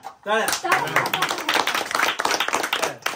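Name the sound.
clapping at a birthday celebration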